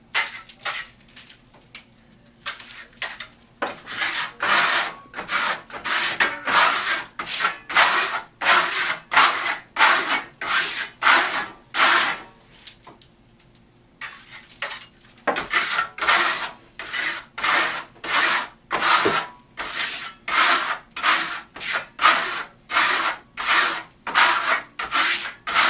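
A steel trowel compresses and burnishes Marmorino KS Venetian plaster on an exterior wall, giving close, rhythmic scraping strokes in quick repeated sweeps, each a rasping rub, with one brief pause partway through and no voices.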